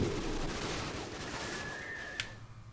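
Gunfire in the shooter game Call of Duty 4: Modern Warfare, a dense rumble of shots that fades, ending with a single sharper crack and a trailing ring.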